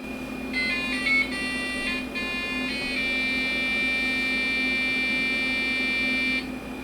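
Tinny square-wave video game music beeps from the built-in PC speaker of a 1992 Philips Magnavox 386 SX-20 computer, a quick run of notes giving way to one long held tone, steady and fairly loud over a constant low hum, no talking.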